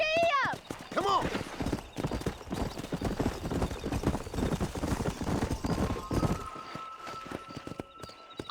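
Horse hooves clip-clop at a quickening gait while riding in the video game Red Dead Redemption, with a whinny near the start and voices talking over the rapid, close hoofbeats before they fade out.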